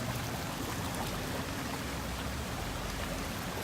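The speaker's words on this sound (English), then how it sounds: "See some of the water that is still gushing and" Floodwater gushes and rushes down a street in Bangor, a steady broadband hiss of flowing water, continuous and fairly faint, with no voices.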